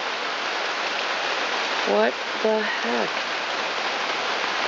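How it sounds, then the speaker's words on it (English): Heavy rain pours steadily onto a backyard deck in Chicago, a dense continuous hiss, with a brief spoken exclamation partway through. "In the pouring rain"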